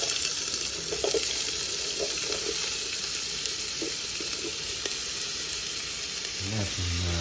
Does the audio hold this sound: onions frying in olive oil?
yes